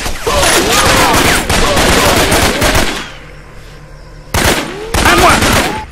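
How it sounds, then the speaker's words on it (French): Enemy gunfire in the jungle in Raven Squad, with dense bursts of loud, close automatic fire. The shooting pauses briefly into a quieter lull, then resumes in heavy volleys. "Essuie un feu ennemi!"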